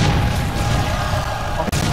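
Cannon fire during an airship fight in an Attack on Titan game, loud, close booming blasts under a continuous rumble, with a sharp break near the end.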